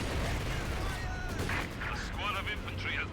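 Maxim machine gun rattling alongside booming artillery in the World War II strategy game Company of Heroes 2, a dense, continuous battle din with a commentator talking over it.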